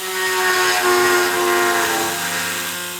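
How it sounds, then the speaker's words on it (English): A power drill runs steadily for about three seconds while drilling during a Raspberry Pi mains relay build, a loud, close, continuous whirring drone with a gentle rise and fall in loudness. "I'm going to be doing lots of drilling"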